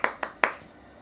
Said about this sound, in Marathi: आता आधीच टाळ्या वाजवते